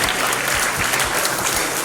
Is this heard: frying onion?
no